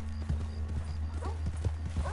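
Horse hooves clip-clop steadily in the video game Red Dead Redemption 2, an even close rhythm of hoof strikes over a low constant hum, with a brief whinny-like sound partway through.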